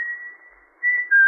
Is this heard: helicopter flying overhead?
no